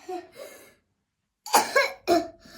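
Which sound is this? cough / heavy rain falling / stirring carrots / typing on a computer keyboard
cough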